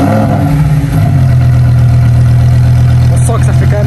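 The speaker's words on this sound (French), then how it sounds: "si tu peux bien nous démarrer du coup ce magnifique V10" Lamborghini Huracán STO V10 fired up and settling into a loud, steady idle drone close by, with a brief flare at the start and people talking over it.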